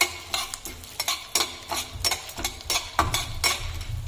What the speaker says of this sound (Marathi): आपण हरभऱ्याची डाळ घेतली, ती परतून घेऊ यावर